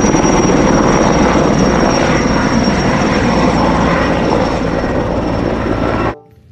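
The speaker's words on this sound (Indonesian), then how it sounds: "Helikopter." A toy helicopter sound effect plays loud and close, a continuous whirring rotor drone with a steady high whine. It stops abruptly near the end.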